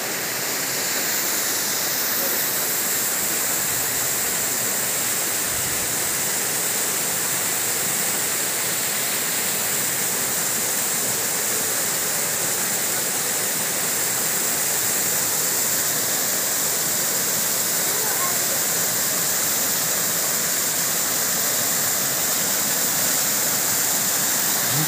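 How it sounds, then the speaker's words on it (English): Constant roaring rush of a waterfall, loud and unbroken throughout, with no voices. "Beautiful waterfall."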